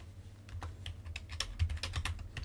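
Keys clatter on a computer keyboard while a cover letter is typed, a quick irregular run of close, crisp clicks over a low steady hum.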